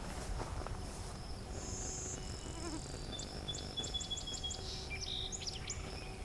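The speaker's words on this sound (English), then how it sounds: "Okay, got song sparrow." A song sparrow sings outdoors over steady insect buzzing: a series of rapid, bright chirps and trills, moderately near and clear against the background.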